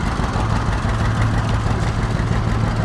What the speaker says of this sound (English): 620 John Deere.